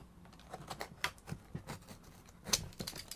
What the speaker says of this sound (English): I've got a bit more tape just to take off